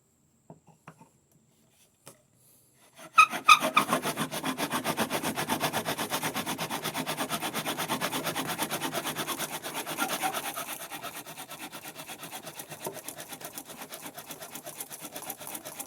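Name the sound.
spindle drilling into wooden fireboard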